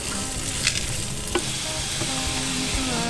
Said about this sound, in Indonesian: Gue lagi ini dulu, ngeringin baconnya dulu.